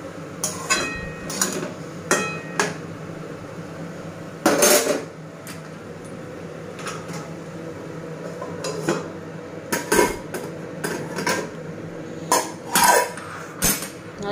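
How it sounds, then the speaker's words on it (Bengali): A metal plate being pulled out and handled among other dishes, giving sharp clanks and clinks in irregular bursts, close by, over a low steady background hum. "সেই জন্য এই থালাটা বের করেছি"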